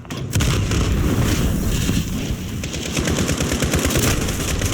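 Continuous heavy gunfire and explosive booms from a Modern Warfare multiplayer match, with a grenade blast amid rapid machine-gun bursts, loud and dense throughout the whole stretch.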